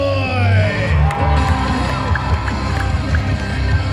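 Rodeo crowd at an Ontario fairground arena cheering and whooping, a dense, loud roar of many voices with rising calls, steady throughout under an announcer's amplified talk.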